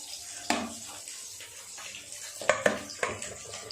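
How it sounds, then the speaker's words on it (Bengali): Fish fries in a pan of hot oil with a faint, steady sizzle, broken by a few sharp clinks and scrapes of a utensil against the pan, with no talking. "মাছের এই পিঠটা ভাজা হয়ে গেছে, উল্টিয়ে দিয়ে অপর পিঠটাও ভাজা হতে দেবো।"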